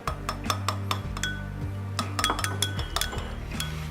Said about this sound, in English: And now you wanna start whisking.